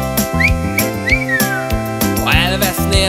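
Short sliding whistled notes rise and fall over a loud, lively band in a Hungarian pop-folk song, partly blended into the instruments.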